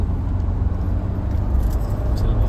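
A car's engine rumbles loud and close as it pulls away on a family camping outing near Pawana, a steady low roar with no talk.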